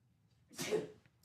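A single quick sneeze bursts out once near the middle, fairly faint and brief against a quiet background, with no talk around it.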